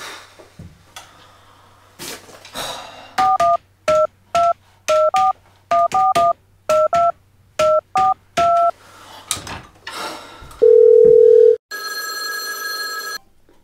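Someone dials a telephone number: about a dozen short touch-tone beeps in uneven groups, then a long steady line tone and a brief ringing signal, all loud and close.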